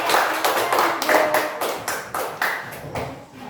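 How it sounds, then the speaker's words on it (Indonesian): A classroom group claps hands for group 3, several bursts of close, uneven clapping forming a steady patter across the clip, with no talking over it. "Oke, tepuk tangan untuk kelompok 3 ya."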